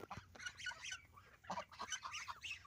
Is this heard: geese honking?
yes